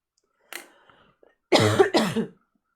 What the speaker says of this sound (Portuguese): Desculpem essa tosse